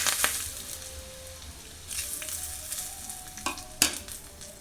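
A tempering of asafoetida, turmeric and curry leaves sizzles and crackles in hot oil for a spicy tomato chutney, a quiet frying hiss broken by a few sharp pops and stirring clinks.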